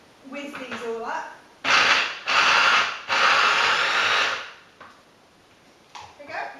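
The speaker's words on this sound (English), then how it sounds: "So we've got some mushrooms and some celery and some capsicum. And we're just going to basically whiz these all up." A kitchen blender or food processor whizzes chopped mushrooms, celery and capsicum for a low-fat spaghetti bolognese in three loud bursts of whirring, with a voice talking before and after.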